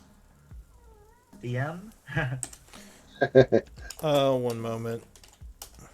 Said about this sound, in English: He's typing as fast as he can.